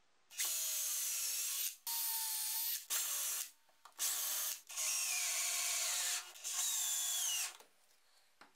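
A power drill drives screws into glued wooden pieces for a belt sander station, running in six bursts of whine of about one second each, separated by brief pauses, close and loud with no talking.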